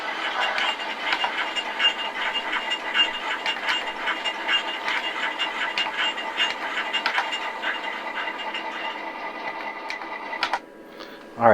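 Bachmann model train locomotives on a track running together, a busy mechanical clatter with fast ticking and whirring, steady for most of the stretch before cutting out near the end.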